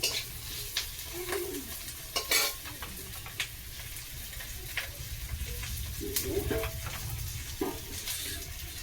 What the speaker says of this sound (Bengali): আর একটু ভাজা ভাজা হোক তারপরে জলটা দিয়ে দেবো